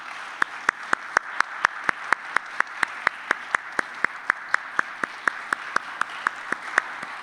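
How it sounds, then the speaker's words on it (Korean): Rhythmic, unison clapping of thanks from a church gathering, a steady beat of evenly spaced claps sounding loud and alone with no talk over it. "감사의 박수 보내드립니다"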